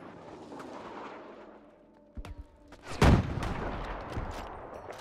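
An anti-aircraft gun in the video game Battlefield V fires a heavy, booming shot after a few sharper cracks, with rumbling battle noise around it and no talking.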